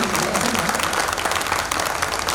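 Audience clapping steadily at a bhajan kirtan gathering, a dense, continuous wash of many hands held at an even level throughout.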